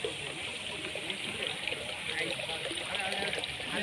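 Water runs and trickles steadily on its own, a close, continuous splashing flow with no pauses.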